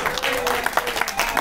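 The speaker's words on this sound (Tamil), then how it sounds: "அதனால் தயவுசெஞ்சு நீங்களே ஒரு தடவை கைத்தட்டிடுங்க." Audience applause at a film audio launch event for Maaveeran Pillai, a sustained burst of clapping from a crowd that fills the whole moment at an even, fairly loud level.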